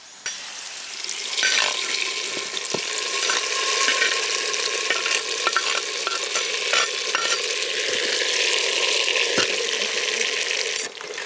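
Fried raisins and cashews are poured into palm jaggery pongal, producing a loud, steady sizzling hiss that starts abruptly and holds, with a few knocks and scrapes on top.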